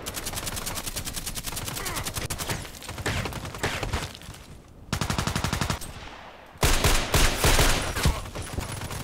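Video game gunfire comes in loud rapid automatic bursts, a dense run of shots early, a short lull, then another harder, louder string of fire near the end.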